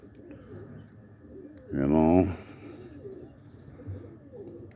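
Pigeons in a small loft on an early Sunday morning give a single loud, close coo lasting about half a second, with softer background murmuring and a brief spoken remark.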